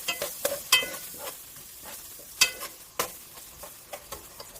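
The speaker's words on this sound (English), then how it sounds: "And the sizzle." Food sizzling in a frying pan with spices, a steady crackling hiss broken by sharp pops and the scrape of stirring, close and unaccompanied by talk.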